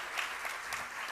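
Audience applause in a grand auditorium for Dr. Wilfredo Lozano at a book launch for La Razón Democrática, a steady wash of clapping held at a moderate, fairly even level for the whole moment.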